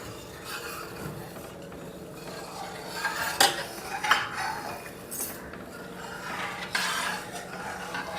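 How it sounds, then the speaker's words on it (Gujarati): A spoon stirs custard into boiling milk in a metal pot, scraping and clinking against the sides in irregular strokes, with a few sharper knocks over a low background hiss. "આપણે એને કસ્ટર્ડ નાખી અને ઉકાળી લઈશું અને એને હલાવતા રહીશું"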